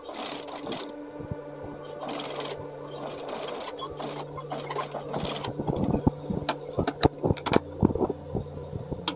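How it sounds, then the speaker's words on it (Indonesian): Close, steady whir of a sewing machine stitching a small 3 mm seam on a garment fold for a buttonhole, running in short bursts with clicks and handling noises toward the end. "kita jahit kecil sekitar 3 mili lah ya, 3 mili atau 2 mili mungkin"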